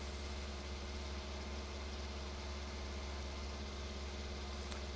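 A tractor engine idling in the Farming Simulator 19 game, a faint, steady low hum with a constant mechanical drone and no talking.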